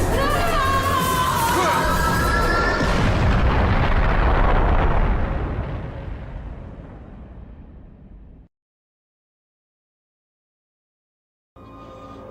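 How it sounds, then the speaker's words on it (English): In the Devil May Cry video game, a beam strikes a pillar and brings it crashing down. A loud, roaring crash rumbles and fades over several seconds into silence, then a brief burst of sound returns at the end. "So the boss is beaten and starts shooting beams everywhere. It hits a pillar and it's about to crush Trish."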